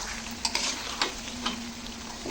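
A whole leg of goat mutton sizzles steadily in a wok as it is braised, with a few sharp scrapes of a stirring spoon breaking through the frying hiss.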